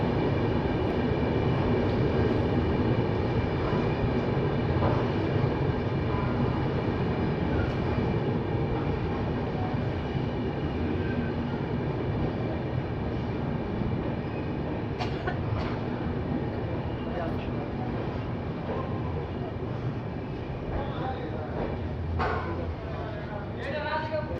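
The Kolkata–Radhikapur Express, train 13145, rolls into Malda Town station at night with a steady rumble of wheels and carriages, while a dog barks and voices talk throughout.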